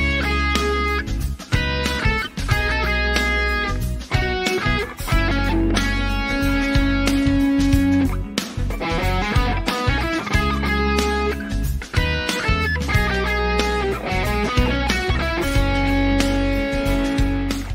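Electric guitar playing a continuous, busy passage of chords and notes, loud and steady throughout with no talking.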